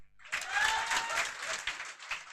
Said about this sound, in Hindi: राहुल के लिए जोरदार तालियां।